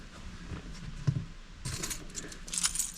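Car keys for a 2010 Ford Escape jangle in a few bright, close metallic bursts, loudest in the last second and a half over a low room rumble.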